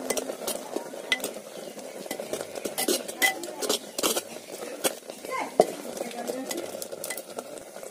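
Wild spinach dal being stirred in a pot over a tribal cooking fire, with repeated close clinks and scrapes of a spoon against the pot over a soft simmer, and someone speaking intermittently.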